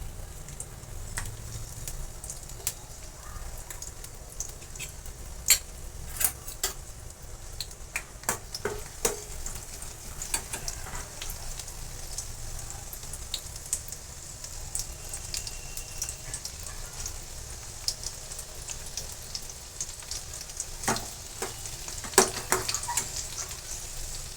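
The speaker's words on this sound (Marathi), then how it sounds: "मी आता याच्यामध्ये ठेसलेला लसूण टाकून घेणार आहे" Crushed garlic fries in about three spoonfuls of hot oil for a rustic chandan batwa greens dish, giving a soft, steady sizzle with scattered crackles and pops lasting the whole stretch.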